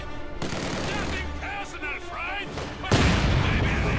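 Mortar and gunfire in the World War II strategy game Company of Heroes 2, with continuous rumbling battle noise, rapid shots and a sudden heavy burst near the end, heard under a commentator's voice.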